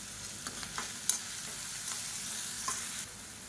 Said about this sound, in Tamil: இப்போ பாருங்கள், வெங்காயம் பச்சை மிளகாய் எல்லாமே லேசாக வதங்கிடுச்சு